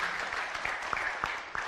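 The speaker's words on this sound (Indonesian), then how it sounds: "Tepuk tangan loh." Audience applause at a talk, a soft steady wash of many hands clapping with a few sharper claps standing out, fairly quiet and distant.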